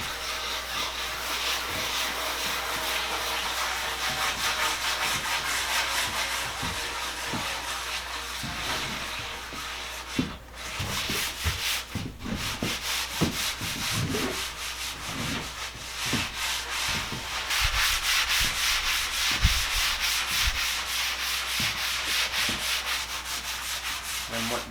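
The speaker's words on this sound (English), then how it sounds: "then I hit it with the salt. Then I just start scrubbing." Steady, close scrubbing with salt and cider vinegar, a continuous gritty rubbing rasp with rhythmic strokes and a few knocks, going on without talk.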